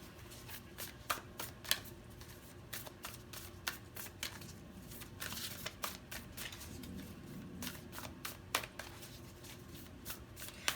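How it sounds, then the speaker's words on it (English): Tarot cards shuffled by hand in quick crisp riffling bursts with soft clicks and slides as cards are drawn, close and quiet with no talk. "Let's draw some more cards."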